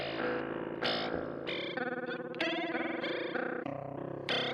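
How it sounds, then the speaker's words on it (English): Guitar processed through the Motor rotor plugin on iOS, producing a weird ring-modulated, metallic warble: loud distorted notes with wobbling, chirping overtones shifting every half second or so, effects-heavy and alone without talk. "I love how you can get this like weird ring modulation sound out of this as well."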